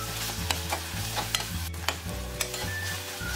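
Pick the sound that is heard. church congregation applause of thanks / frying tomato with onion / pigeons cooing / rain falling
frying tomato with onion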